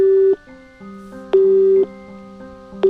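Electronic phone ringing in the Nancy Drew game Midnight in Salem: clean repeating two-tone electronic rings, three bursts in quick sequence with a lower sustained tone between them, alone without speech.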